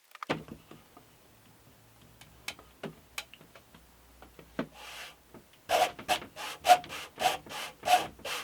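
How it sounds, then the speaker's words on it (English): A handsaw cuts through 2 mm of wood for a guitar build, starting with scattered light scrapes and taps, then settling into a run of six or seven rhythmic rasping strokes close by. "Bit weird cutting through 2 millimeters of wood this way, but it's giving me a very straight cut."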